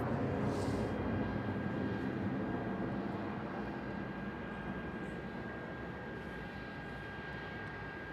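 Airliner taking off at Melbourne Airport, a steady, distant engine roar holding broadly for several seconds and easing slightly toward the end, heard alone without voices.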